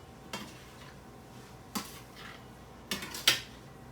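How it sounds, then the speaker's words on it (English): A utensil scrapes and clinks against a pot as pasta is stirred together with eggplant and tomato. There are a few scattered, faint knocks with quiet pauses between them and no talking. "now you put the pasta in with the rest of your stuff. Okay? Mix it up nice."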